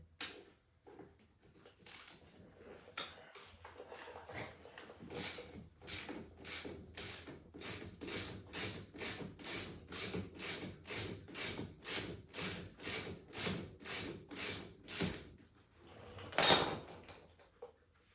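Nut being removed from a Polaris UTV wheel bearing hub after a blown bearing on the trail, heard as a steady run of about twenty evenly spaced ratchet clicks, close and loud, with a few scattered clanks before and a harsh metallic burst at the end.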